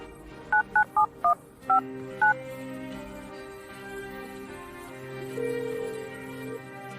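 Six quick, bright keypad tones ring out as a borrowed mobile phone is dialed, followed by a quieter, sustained tone and faint background sound.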